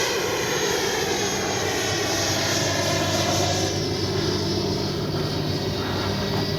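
An FMS Avanti S 90mm electric ducted-fan RC jet flies past, giving a steady, loud, broadband whoosh and whine that holds for several seconds with slight shifts in pitch, and no voices over it.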